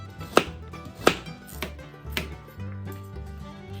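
Several crisp knife chops on a cutting board, slicing onions into half-rings, irregularly spaced, with two sharp louder strikes early on and softer taps after; no voices.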